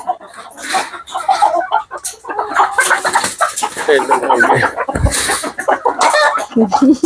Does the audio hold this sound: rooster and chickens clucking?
yes